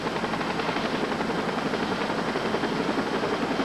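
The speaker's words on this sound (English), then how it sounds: "That same weekend, a helicopter arrives" A rescue helicopter arrives, its rotor churning out a loud, steady, broadband thump and whine that fills the scene throughout with no speech over it.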